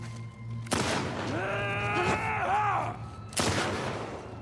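Gunshots in a video game set in Seattle ring out as two sharp loud cracks roughly three seconds apart, with a voice heard in between.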